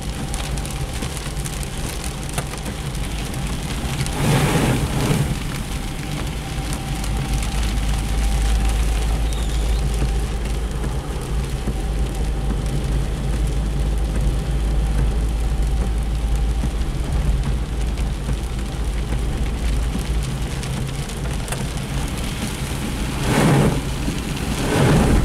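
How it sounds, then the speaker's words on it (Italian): Heavy rain drums steadily on a Fiat Panda driving through flooded roads, with a dense wash of rain noise and a low engine rumble, broken by two loud, rolling thunderclaps. No one speaks. "Continua a piovere, è bellissimo."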